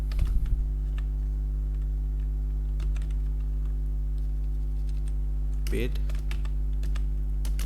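Keys clack on a computer keyboard while data is entered into a school fee spreadsheet. The keystrokes come in scattered short clusters over a constant electrical hum, and someone speaks briefly.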